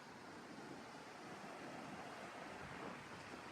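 Cold mountain river water rushing steadily at the Bhaga river near a bridge, a continuous broadband roar with a wind-like hiss, close and constant throughout with no voices.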